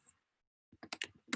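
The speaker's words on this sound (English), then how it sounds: "So if I start typing in an address," Light typing of an address on a computer keyboard, a quick run of about six soft key clicks after a short pause, quiet and close with no talk over it.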